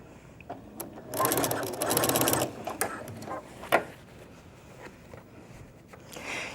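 Sewing machine stitching the lining top over the front of a diaper bag, two short rapid bursts of clattering needle action, then quieter handling clicks and rustles.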